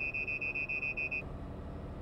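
A Mack RSA truck's adaptive cruise control following-distance warning sounds as a rapid series of about nine short, clear electronic beeps, then stops, leaving a low cab rumble.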